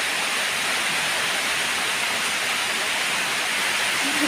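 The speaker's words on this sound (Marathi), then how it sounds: "पाऊस एवढा जोरात पडतोय" Dense, constant roar of heavy rain pouring down, an unbroken wash of noise with no voices or pauses.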